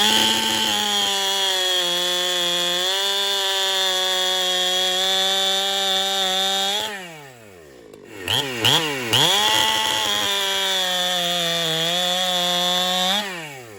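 Chainsaw running a Husqvarna X-Cut C83 chain through wood: a loud, steady high-revving whine under load for several seconds, then drops to idle with a few quick throttle blips before bogging back into the cut.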